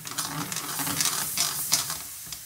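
Sweet Pedro Ximenez sherry poured into a hot pan of sauce for quail, giving a steady close hiss and sizzle with faint stirring scrapes throughout.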